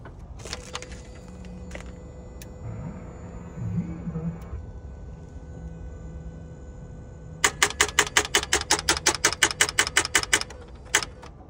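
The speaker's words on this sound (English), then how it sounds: "As you heard, it's just clicking this morning." Rapid dry clicking from a 2012 Ford Fusion that fails to start, a burst of about a dozen quick, evenly spaced clicks heard close up, preceded by faint key and door sounds in a quiet setting.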